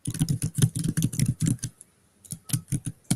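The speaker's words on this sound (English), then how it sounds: "Slim, are you typing? Oh, I am" Rapid typing on a computer keyboard, close and fairly loud, clattering in dense bursts for about a second and a half, pausing briefly, then resuming in separate key taps.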